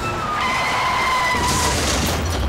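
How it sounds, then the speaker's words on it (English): A lorry skids with a long, loud tyre squeal on the road, then a heavy broadband rumble follows as it slams into a broken-down truck. "My truck had broken down and I was waiting for help when suddenly this lorry smashed into me."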